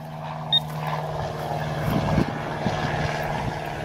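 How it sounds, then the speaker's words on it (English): A small propeller plane flying over near a little airport while metal detecting outdoors in Georgia, a steady droning buzz that swells slightly toward the middle, moderately close, with a brief click near the start. "there goes a plane from the little airport right next door"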